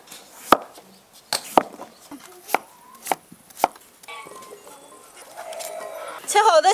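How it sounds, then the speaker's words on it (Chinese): A knife chops potatoes into strips on a board with about six sharp, evenly spaced strikes, followed by quieter kitchen clatter and background noise. "洋芋切条儿。"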